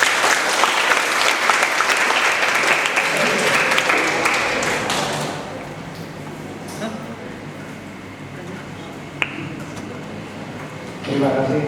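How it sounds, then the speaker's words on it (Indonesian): An audience at a Universitas Papua presentation breaks into loud clapping that fades after about five seconds, leaving room noise, a faint voice and scattered small sounds before a brief swell returns. "Tepuk tangan buat Universitas Papua."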